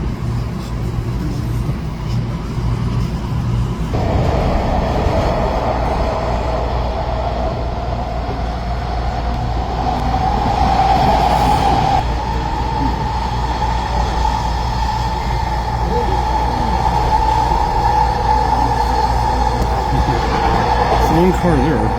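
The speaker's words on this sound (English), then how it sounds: "I'll wait for the westbound train and eastbound will soon." A westbound SkyTrain pulling into a station near New Westminster downtown bus loop, a loud continuous rumble with a rising whine and steady hum, filling the whole stretch without pause.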